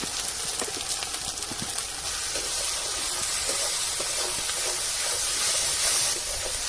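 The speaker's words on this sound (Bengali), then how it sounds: "মশলাটা ভালো করে কষানো হয়ে গেছে" A spice paste of cumin, ginger, dried chili and turmeric fries in a pan with a continuous bright sizzling hiss, close and fairly loud, with light scraping stirs beneath it.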